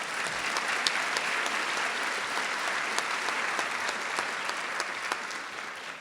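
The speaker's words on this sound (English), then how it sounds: "I think they deserve a big round of applause." A crowd at a university campus presidential update event applauds the cheer and dance squad, with sustained, even clapping from many hands at moderate distance and a few sharper individual claps standing out.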